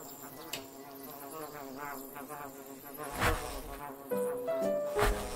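Bees buzz around a hive in the VR game Cartoon Network Journeys VR, a steady insect drone with bright tonal game chimes and effects layered on top.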